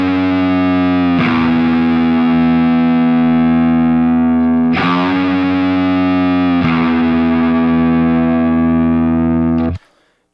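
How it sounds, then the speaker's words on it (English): A heavily distorted electric guitar sustains a note that bends up a half step and releases, with a few fresh picked attacks in between. It is loud and alone, ringing through the whole clip before cutting off abruptly near the end. "we're going to take F, we're going to bend it half a step, and as we release it, we're going to pick a quick E"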